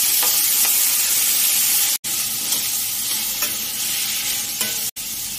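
Chopped onion and tomato with anchovies hit a hot pan with chili and fry with a steady, loud sizzle and hiss, with faint stirring scrapes and two brief dropouts.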